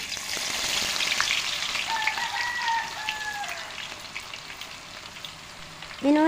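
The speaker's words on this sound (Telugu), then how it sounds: "కింద దించుకున్నాక ఎల్లిపాయల ముద్ద వేసుకోవాలి" Garlic paste frying in hot oil for a mango pickle gives a steady soft sizzle and crackle, close and moderately quiet, with a brief clatter at the end.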